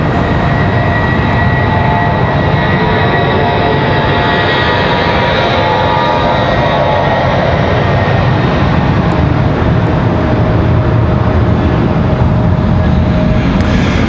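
A jet airplane engine roars steadily and loudly at Raleigh-Durham International Airport, a constant heavy rumble with a high whine layered on top and no voices.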